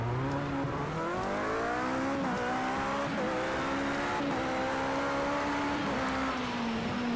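Race car in Project CARS 2 during career-mode qualifying, its engine revving high and steady through gear changes with pitch sweeps up and down, tires squealing under the loud, constant drone, and no talking.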